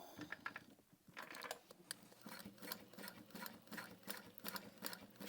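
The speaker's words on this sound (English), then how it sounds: "Just gonna sew that in place." Sewing machine stitching a clear vinyl wristlet, a steady rapid mechanical whirr with closely spaced needle clicks running throughout, close and moderately loud with no talking.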